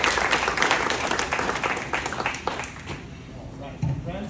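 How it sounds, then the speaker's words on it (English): A round of applause for participants at an installation entertainment event, brisk clapping from a gathered audience that is loud at first and thins out toward the end, with voices over it. "Round of applause for all of our participants."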